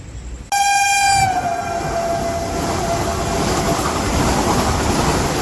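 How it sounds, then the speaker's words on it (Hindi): Orange Vande Bharat Express rushing through Jamui station without stopping, opening with a loud sustained horn blast that gives way to a continuous roar of the passing train, close and steady with no talk. "देख लो भैया वंदे भारत एक्सप्रेस।"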